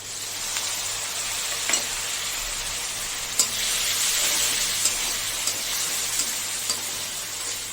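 Lightly browned onion frying with ground cumin, red chili, turmeric, salt and green chili paste crackles in a steady, close sizzle, with a few soft knocks of a spoon now and then.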